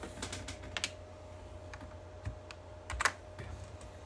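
A password being typed on a computer keyboard, a quiet run of irregular key clicks with a couple of slightly louder taps, close by in a calm room.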